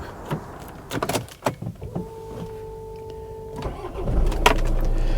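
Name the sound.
Kia Sportage common rail diesel engine starting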